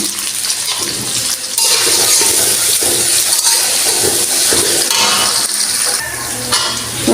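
Whole spices (cardamom, cinnamon, bay leaf) and onion frying in a little oil in a pan give a loud, steady broadband sizzle that swells after the first second and holds, with no voices.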